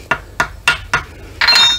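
A small gasket hammer taps through gasket paper on a Case 580SK gearbox, giving four evenly spaced, sharp metallic taps up close, then a brighter ringing strike.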